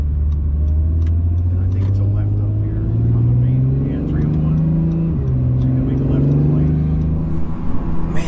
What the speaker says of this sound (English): Those turbos sound great